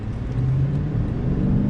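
Lexus LC 500 sports car engine pulling away in first gear, a steady low rumbling drone heard from inside the cabin, continuous and fairly loud with no talking.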